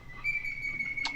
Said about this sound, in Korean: 새소리가 참 좋구나